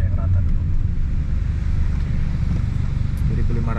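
A Honda Jazz GE8 engine holds steady around 2500 rpm, heard from inside the car as a constant low droning hum with road and wind rumble.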